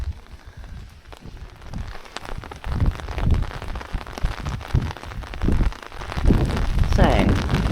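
Wind and rain gust outdoors behind a courtyard in Buxton, with a rushing, uneven roar of rain and blustery low rumble that swells louder toward the end.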